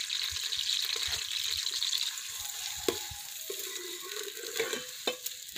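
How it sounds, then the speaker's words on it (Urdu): Onions sizzling in hot ghee in a pan, a soft continuous frying hiss broken by occasional scrapes and clinks as they are stirred, with no talking. "پیاز کو اچھی طرح سے سرخ کریں گے تھوڑی دیر تک"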